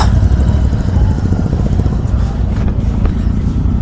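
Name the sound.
motorcycles riding in a group ride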